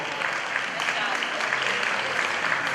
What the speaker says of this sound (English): let's give her a big round of applause though